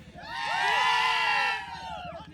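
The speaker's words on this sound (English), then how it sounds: "The crowd is in the background. You can hear them screaming." Crowd screaming and cheering at a dirt track motorcycle race, men's novice 350cc finals, a loud surging wave of high shrieks and whoops peaking mid-clip, then fading to scattered shouts.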